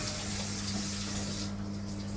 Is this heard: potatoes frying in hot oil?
no